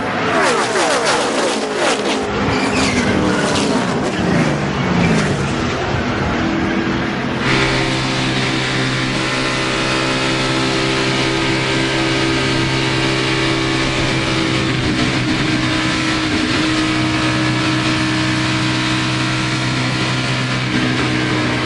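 NASCAR Nationwide race cars in a 2011 race at Daytona roar past in a dense drafting pack, a loud, continuous engine drone that settles into a steadier, sustained pitch partway through.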